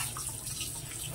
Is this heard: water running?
yes